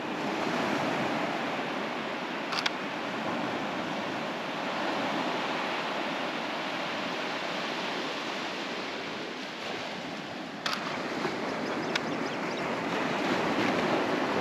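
Ocean waves wash steadily onto a beach in a continuous broad roar of surf that swells and eases, loud and fairly close, with a couple of brief sharp clicks and no voices.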